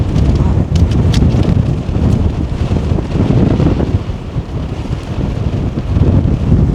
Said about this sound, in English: Wind really came in.